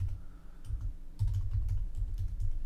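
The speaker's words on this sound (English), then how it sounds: "let's go ahead and type in your username and password for your Redshift environment" A username and password being typed on a computer keyboard: close, quick clicking keystrokes in an uneven rhythm, with a short lull before a faster run of taps.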